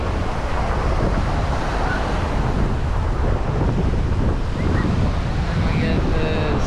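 Strong wind buffeting steadily at the seaside at sunset, a continuous loud rushing roar close to the microphone with surf-like noise underneath.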